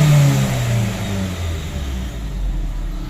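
A 2012 Honda City engine with a noise fault runs at a steady idle, giving a loud, continuous low rumble with a slight whir, close by and without voices.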